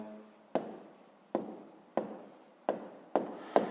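Pen strokes on paper while a sixth-grade maths answer about metal volume is written out by hand: six distinct scratchy onsets, each trailing off, spaced roughly evenly and close by, with no talk.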